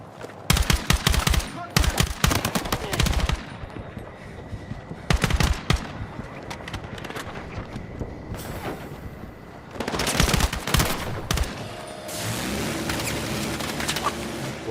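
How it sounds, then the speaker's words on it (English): Rapid bursts of automatic gunfire in a military shooter video game crackle in dense clusters with brief lulls between, loud and close, with faint voices underneath. "Where am I getting shot from?"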